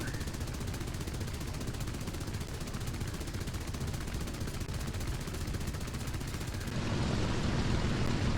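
Rapid automatic gunfire from a naval combat video game, a dense continuous rattle of shots that runs steadily throughout and grows heavier near the end, no talk.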